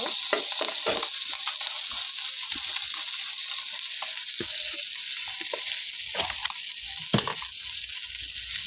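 Fish and green chillies fry in a pan of hot oil with a constant close hiss, while scattered knocks and scrapes from stirring sound through it.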